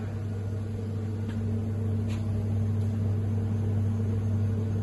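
An Ultrair electrostatic air purifier runs with a steady, even hum and a constant low electrical drone, with a couple of faint brief ticks.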